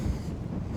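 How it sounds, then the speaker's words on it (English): Strong wind buffets the microphone in a cliff-ringed cove at Navagio Beach, Zakynthos, a steady low rumbling roar through the whole short moment with no voices. "it's that windy"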